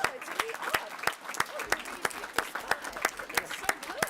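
Audience in a council chamber applauding, a steady patter of many hands clapping with some sharper individual claps standing out, moderately loud throughout.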